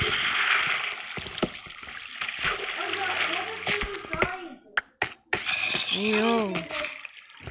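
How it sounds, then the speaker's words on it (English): Water splashes in the Minecraft video game, with rushing, sloshing bursts and a few sharp slaps under a player's chatter. "I'm in the water."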